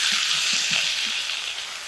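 Broiler chicken pieces dropped into hot frying spice paste, giving a loud, steady hiss of sizzling with a few soft stirring thuds underneath.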